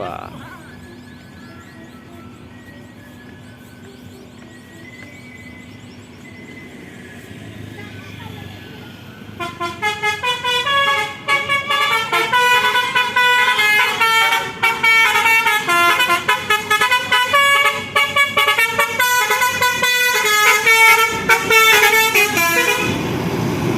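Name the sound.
bus departing, honking horn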